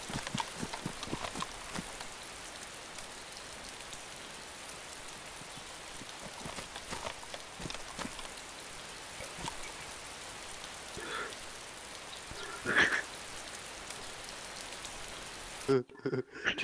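Rainfall in the video game DayZ forms a constant hiss of drops, with scattered clicks and knocks and occasional voices over it, ending in a brief burst of louder noise.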